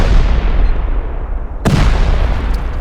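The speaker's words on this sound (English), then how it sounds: "when a wall is destroyed" Wall destroyed in the survival video game Rust, a loud booming crash and sharp burst over a rumbling, noisy backdrop, with debris-like crackle trailing off afterward.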